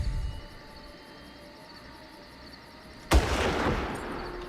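Machine gun fire in the video game Far Cry, a quiet hum and distant faint activity, then an abrupt loud burst of sustained gunfire that continues to the end.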